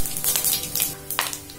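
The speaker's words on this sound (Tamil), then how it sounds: "இப்போ நம்ம அதே எண்ணெயில ஒரு கால் ஸ்பூன் அளவுக்கு மிளகாய் சேர்த்துக்கலாம் கொஞ்சம் போல சூம்பு சேர்த்துக்கலாம்" Chili and fennel seeds frying in hot oil, a crisp sizzle with bursts of crackle and light stirring clinks, close and fairly loud.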